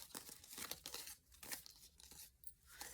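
Paper is handled, creased and folded for a layered junk journal page, making crisp close crinkling and rustling bursts with brief quiet gaps, no voices.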